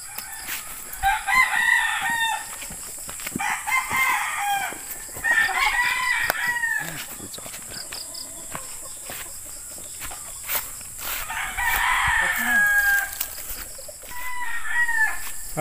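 A broodcock crows repeatedly, several long drawn-out calls close by over a steady insect and cricket hum, with faint clucking between crows.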